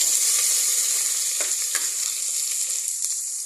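Meat sizzles steadily in a hot pan while cooking for papaitan, a close continuous frying crackle with a few small stirring clicks.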